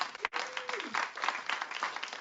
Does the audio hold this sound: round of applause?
yes